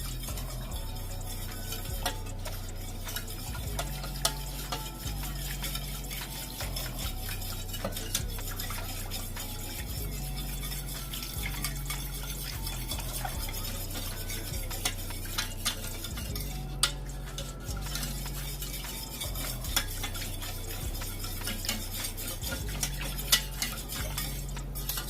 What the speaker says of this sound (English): whisk in my half and half